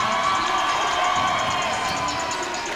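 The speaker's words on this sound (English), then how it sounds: "spectators from the crowd getting out onto the court to urge the crowd to cheer louder" Spectators at a Franklin vs Folsom high school boys basketball game in the Bulldog Gym, cheering as a dense, sustained roar of many voices that holds steady throughout.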